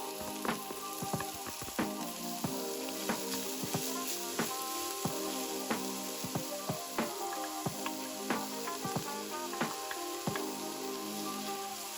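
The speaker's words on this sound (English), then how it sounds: "begin to saute the shallots, garlic, and onion in the oil until softened" Shallots, garlic and onion sauteing in oil, a steady close sizzle broken by frequent crackling pops and spits, with light stirring and no voices.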